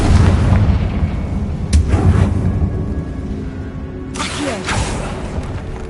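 Confringo spell blasts from Hogwarts Legacy, loud booming bursts around 1.8 s and again near 4.2 s over a dense game soundscape with rumbling explosive texture.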